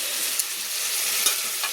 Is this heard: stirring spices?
yes